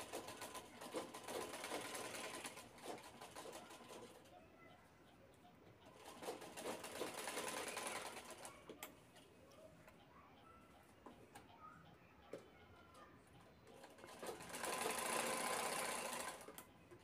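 Sewing machine stitching the corners of a homemade shopping bag, quiet runs of rapid mechanical whirring in several bursts separated by pauses with small handling sounds, while a voice speaks softly at times.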